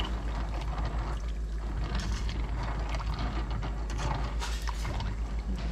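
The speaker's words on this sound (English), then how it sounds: "Keep stirring it so the noodles would not stick to the pan or stick together." A fork stirs macaroni noodles in a pan, giving a constant busy clatter and scrape with a low steady hum underneath, close and even throughout.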